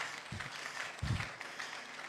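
A church congregation applauds during a thanksgiving service, a brief, fairly quiet burst of clapping with soft, thumping low swells, set against a steady, noisy room background.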